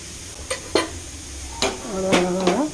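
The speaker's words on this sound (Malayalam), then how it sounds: "ഇളക്കാം" A spoon scrapes and knocks against a pot of stew seasoned with garam masala and coconut milk, giving a few sharp, close clinks and rasping scrapes spaced irregularly, with no talking.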